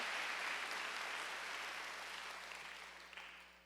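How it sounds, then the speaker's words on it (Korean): Congregation clapping together at a Wednesday church worship service, a dense wash of hand claps that starts fairly loud and slowly fades toward the end. "박수를 하세요"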